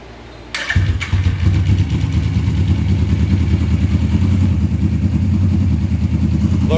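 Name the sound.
Suzuki GS450 cafe racer motorcycle engine starting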